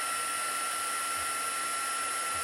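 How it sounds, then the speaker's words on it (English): Heat gun melting embossing powder on a silver tree Christmas card, giving a steady, moderately quiet whooshing fan-and-heater hiss that runs unbroken throughout with no talk. "and then we can heat emboss that one."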